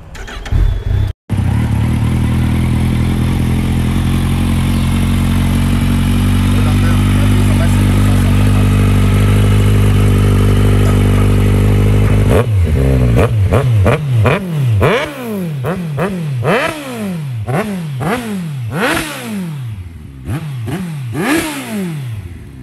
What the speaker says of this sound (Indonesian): kita cuba start tengok Versys 1000 Yoshimura exhaust